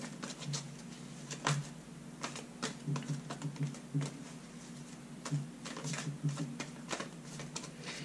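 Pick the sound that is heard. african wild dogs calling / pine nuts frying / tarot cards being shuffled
tarot cards being shuffled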